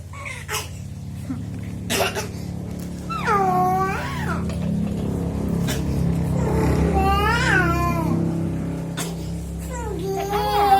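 A cat meows several times in drawn-out, wavering cries, close by, over a low steady hum with a few sharp knocks.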